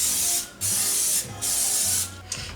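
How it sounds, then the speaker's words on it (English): Cooking spray hisses onto a 9x13 baking dish in three sustained bursts with short pauses between them, close and fairly loud, with no voices. "I'm gonna spray a 9x13."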